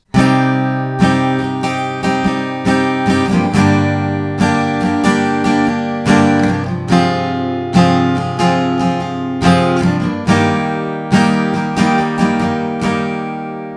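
Strummed guitar chords of a song's pre-chorus progression ring out in a steady rhythm, the repeating progression played twice, loud and close with no voices.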